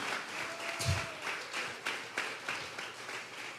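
A church congregation at a Sunday service gives an offering of applause: a steady, moderately distant patter of many hands clapping. The clapping carries on evenly throughout, with a faint voice rising briefly above it.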